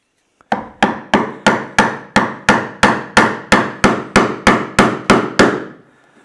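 A mallet drives a chisel into a wooden workbench joint, paring toward the shoulder line: fourteen sharp, evenly spaced strikes, close and loud, each with a brief woody ring, and no talking.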